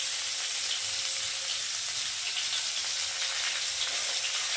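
Green chilies fry in a pan of oil for a fish curry with potol and jhinge, giving a dense, even, continuous sizzle that stays loud and steady throughout.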